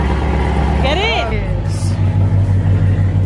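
A loud car engine rumbles steadily up close, with a brief rising whine over the drone, while people speak nearby.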